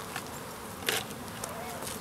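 Honeybees buzz steadily around an opened hive on a cool spring day, a dense close hum with brief louder passes of individual bees.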